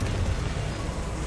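A Confringo blasting spell goes off in Hogwarts Legacy, a dense low rumbling blast with broadband crackle that holds steady for just over a second with no voices.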